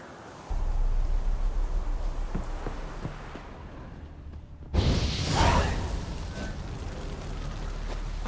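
Geralt's Igni fire sign in The Witcher 3 bursts out as a single sudden whooshing blast midway, over a steady game ambience of wind and low rumble.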